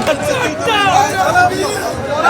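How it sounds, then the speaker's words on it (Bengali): A crowd outside a courthouse chants "chor chor" (thief) slogans at Jahangir Khan as he is led out, a loud, continuous babble of many voices close by with a reporter talking over it. "জাহাঙ্গীর খানকে ঘিরে চোর চোর স্লোগান"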